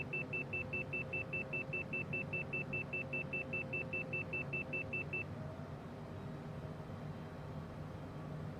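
A speed restriction warning in a Cessna flight simulator beeps rapidly and evenly for about five seconds over a steady engine drone, then stops while the drone continues.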